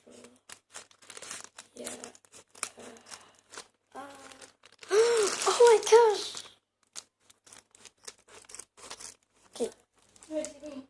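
Scissors snip and crinkle through a plastic squishy package, a dense rustling burst of about a second and a half in the middle, close up, with a girl's brief remarks and exclamations before and after.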